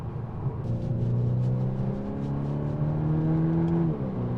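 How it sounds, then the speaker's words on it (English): Volkswagen T-Roc R performance SUV with an aftermarket exhaust, a steady engine drone from inside the car while driving, pitch rising gradually then dropping near the end, with low rumble throughout. "that different exhaust is helping because it sounds awesome"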